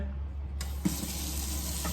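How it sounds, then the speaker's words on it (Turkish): A kitchen tap turns on and runs in a steady gushing stream into a sink while vegetables are washed, close by with no talking. "Hemen sebzelerimizi yıkıyorum"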